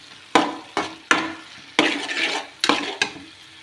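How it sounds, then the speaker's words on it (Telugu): Spoon stirring chili powder into curry frying in a pan, several sharp scraping strokes and clinks against the metal in an irregular rhythm over a soft sizzle, close and clear with no talk. "కారం వేసుకొని బాగా కలుపుకోవాలండి."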